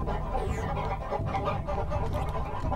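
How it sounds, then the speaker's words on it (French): Chickens cluck steadily in a village in Baten Kaitos, a dense, continuous backdrop of overlapping fowl calls heard alone. "si les bruits des poulets sont quand même assez énervants"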